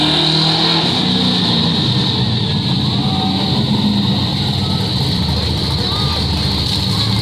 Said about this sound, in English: There's that mean truck again.